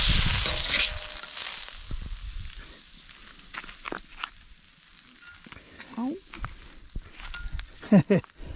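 Steak cooking camp style outdoors at a holiday park sizzles loudly for the first second and a half, then settles into a quieter cook punctuated by scattered clinks and scrapes of utensils.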